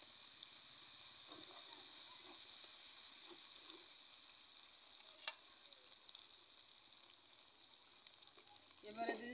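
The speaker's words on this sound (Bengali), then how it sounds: "তোমার ভাজা হয়ে গেছে, এতে দিয়ে দিচ্ছি আদা রসুন বাটা।" Ginger garlic paste fries in oil with bay leaf, whole cumin and green chillies for a fish curry with tomato and potato: a quiet, steady sizzle and hiss, with a few soft stirring scrapes and a louder clatter near the end.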